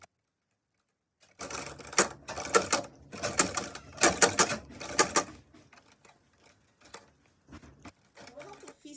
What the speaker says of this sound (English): Since I'm using a domestic machine, it's going to be a bit difficult to sew through